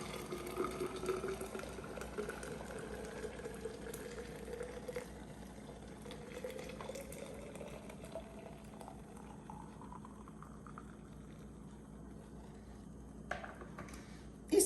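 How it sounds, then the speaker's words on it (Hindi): Boiled water is poured steadily into a jug for parsley tea, its gurgling pitch gradually rising as the vessel fills; quiet and close, ending with a small clink. "ये मेरे पास पानी बॉयल हो चुका है जो कि मैं इसमें डाल दूँगी।"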